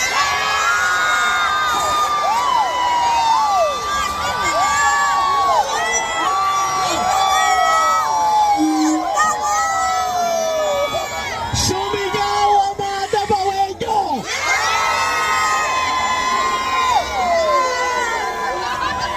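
At a Duterte prayer rally in Toronto, a large crowd shouts and cheers without a break, with overlapping whoops and raised voices sustained loudly throughout.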